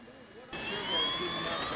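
FlightLine F8F-1 Bearcat model airplane taxiing, its electric motor whining steadily with a high tone that rises slightly, fairly close, after a brief quieter start.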